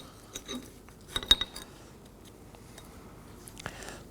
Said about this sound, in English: Going to start by removing the old brake pads.